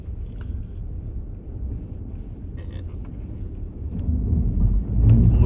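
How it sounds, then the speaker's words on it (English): A Ford Bronco Sport 4x4 in sand mode pushing through soft sand ruts with its tires slipping, a low engine rumble that holds steady and then swells louder near the end, with faint scrapes and no talking. "A little bit of tire slippage there, getting into the ruts, some more tire spin, going in more, sliding a little bit"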